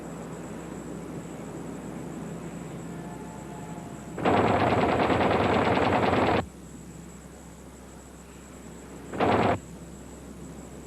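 Twin .50 caliber machine guns in the rear of a B-25 Mitchell bomber fire a long, loud sustained burst, then a short second burst after a pause, over a constant engine drone.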